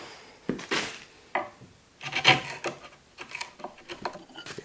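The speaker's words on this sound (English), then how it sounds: "just need to clean up with the chisel" A chisel paring timber on a mortise and tenon door joint for a timber-framed greenhouse gives close, scattered scraping and rasping strokes with a few sharper wooden knocks, fairly quiet and without talk.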